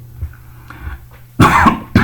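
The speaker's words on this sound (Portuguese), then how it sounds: "eu tô tossindo aqui há alguns dias" Two harsh coughs close to the microphone, a longer one followed quickly by a short second cough, after near silence.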